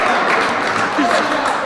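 A crowd applauding a long rally at a senior singles softball handball All-Ireland match: dense, steady clapping and cheering that fills the short moment.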